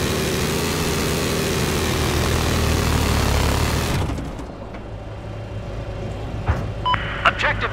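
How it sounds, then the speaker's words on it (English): An enemy jet roars past in Battlefield 4, a loud broad engine rush that cuts off abruptly, leaving quieter battlefield ambience with a few scattered clicks and tones. "spotted an enemy jet."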